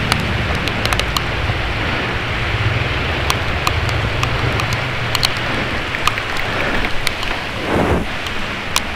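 Steady rain pouring down during a bicycle ride, a dense, loud hiss close by with scattered sharp drip and tick sounds throughout.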